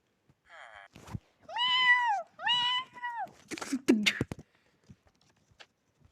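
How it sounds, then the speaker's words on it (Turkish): Several drawn-out Minecraft cat meows, close and clear, followed by a burst of clattering game sounds, then near silence. "kedi var orada"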